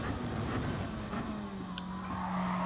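A race car in the video game Gran Turismo Sport brakes and skids, tires squealing steadily under a droning engine whose pitch slides downward, loud and continuous throughout.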